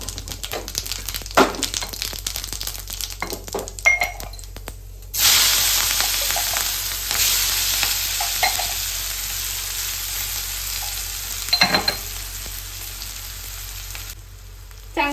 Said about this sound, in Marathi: परतून घ्यायचं जोपर्यंत आपला लसूण आणि हिरवी मिरची होत नाही